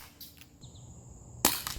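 Elite Force H8R Gen 2 airsoft pistol firing .20 gram BBs outdoors, a single sharp snapping shot near the end, close and loud after a quiet stretch with faint chirps.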